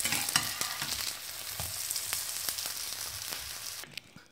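Ginger kebabs frying in a pan, a soft continuous sizzle with scattered small pops, fairly quiet and close, tapering off at the end.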